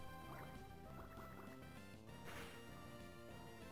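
Water Gun attack sound effect in the video game Pokemon Emerald, a short burst of synthesized splashing and gushing layered over looping game music.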